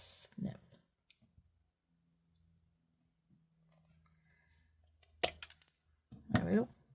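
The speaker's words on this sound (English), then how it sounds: "my stainless steel cutters. These are meant for stainless steel. And we'll snip." Stainless steel wire cutters give a single sharp snip up close during bead jewellery making, set between soft handling noises and brief quiet speech.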